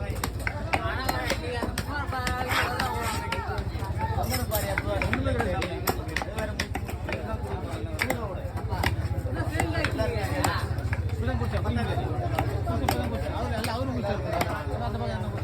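At Kasimedu fish market, fish are chopped with a knife in rapid, repeated sharp chops that run steadily throughout, set in a busy market with people talking around.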